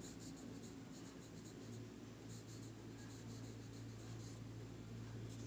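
Pen or pencil writing on paper during a children's English lesson, a soft, continuous scratching that stays faint against a steady low room hum, with no talking.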